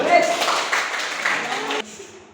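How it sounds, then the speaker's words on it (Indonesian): Classroom applause after a student correctly answers a quiz question on regional dances, a short burst of hand clapping that stops abruptly near the end, leaving a quieter tail. "Kasih tepuk tangan dulu."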